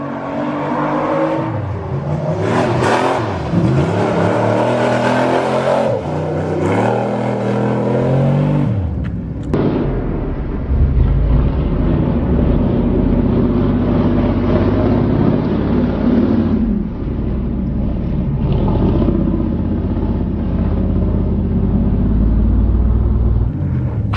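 Truck driven off-road with its engine revving hard, loud and close, a rough roaring rumble that surges and holds for the full length with no speech.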